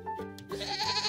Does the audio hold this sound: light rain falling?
no